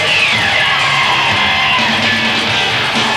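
A large crowd at a live event roars in a loud, continuous wash of cheering and yelling, with no breaks across the whole three seconds.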